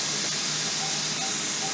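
Hot water rushes into a container in a steady, close hiss that runs unbroken from start to finish without any voices.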